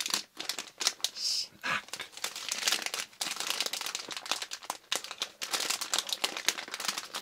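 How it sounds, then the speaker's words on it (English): A Bomba chocolate-flavored snack wrapper crinkled and crumpled close up, a dense run of sharp crackling bursts with brief pauses, loud and continuous over several seconds, with a single spoken word at the start. "Very crinkly. A little too crinkly, if you ask me."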